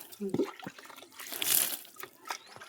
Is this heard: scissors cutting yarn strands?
no